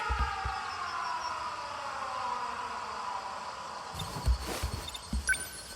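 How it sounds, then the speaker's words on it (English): Air raid sirens in the video game 13 Sentinels: Aegis Rim wail with slowly falling tones over a hissing background, then some thuds and rustling noises come in near the end. "Air raid alarms have been sounded."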